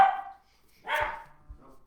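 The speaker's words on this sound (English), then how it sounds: "That's my dog." A dog barks a couple of times indoors during a home livestream, two or three short, fairly loud yaps separated by pauses.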